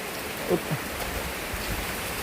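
Rain falls in a steady, even hiss, with a few louder drops and a faint, indistinct voice in the background.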